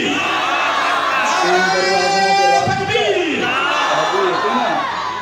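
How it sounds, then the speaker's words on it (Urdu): A large crowd at a religious conference roars back a unified takbir chant with raised hands, a loud swelling chorus of voices rising and falling in response to the call. "ایک بار ذرا مزید طرف دونوں ہاتھ اٹھا کے نعرے کا جواب دیں گے آپ۔ نعرہ تکبیر!"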